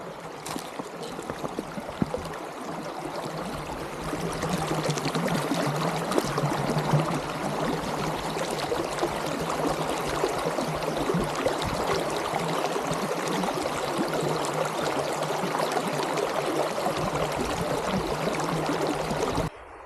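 A river rushes through a canyon at Apple River Canyon State Park in northwestern Illinois, making a steady, loud, broadband roar of flowing water that continues unbroken for the whole stretch without talk.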